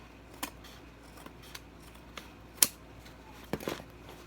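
Scissors snip off a small, uneven piece of Dollar Tree bathroom decor material: several faint clicks and one sharp, close cut, then a couple of softer snips in a quiet room.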